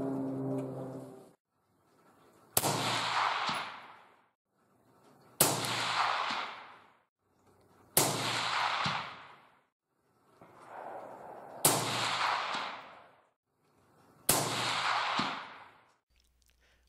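Five loud, sharp shots from a suppressed AR-15 rifle at an outdoor range, spaced evenly about three seconds apart, each with a short trailing decay and no talking between them.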